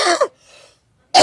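A person coughs, one short harsh burst followed by a faint breathy pause and another loud close cough, with no talking.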